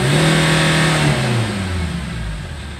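A Chevrolet Captiva with a low-power fault and a turbocharger trouble code revs on a test drive, its engine note climbing and then dropping as the car moves, mid-pitched and close, with no talk.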